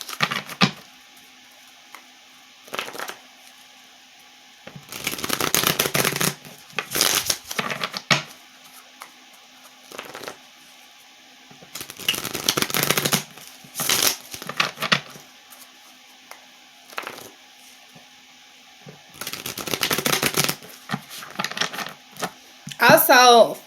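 Tarot cards are shuffled in repeated brisk bursts of papery riffling, separated by quiet pauses, close by and moderately loud throughout.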